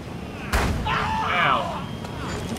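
A single sharp gunshot cracks in The Culling video game, followed by a rumbling tail and scattered game effects, with a person's voice talking partway through.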